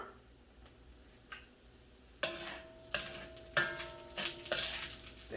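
Meatless steak-style strips stir-fried in a hot wok with sesame oil for a Thai dish, giving a soft steady sizzle broken by several distinct scraping and clattering strokes of a utensil against the pan.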